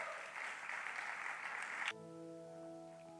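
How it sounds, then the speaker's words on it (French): An audience at an awards ceremony applauds with a dense spread of clapping for about two seconds, then the clapping stops abruptly and sustained music takes over. "Sous vos applaudissements, merci."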